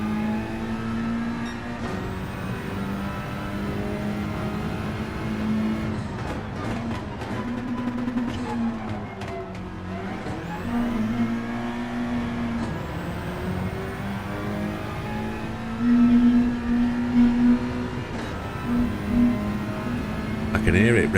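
Honda Civic FL5 engine revving in an online Civic Cup racing sim, a steady mid-level drone with pitch rising and falling throughout, louder surges near the end, with a voice talking over it.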